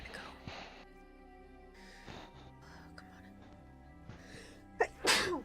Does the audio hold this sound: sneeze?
yes